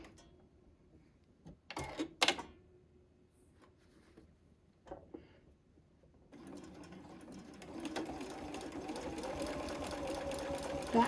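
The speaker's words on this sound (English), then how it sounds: "we're going to sew on the diagonal" A sewing machine stitches quilt binding on the diagonal: a few short bursts near the start, then a steady continuous whirring run that builds and holds to the end, close and fairly quiet.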